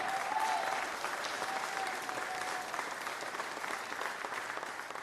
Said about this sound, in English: We need to clap harder for that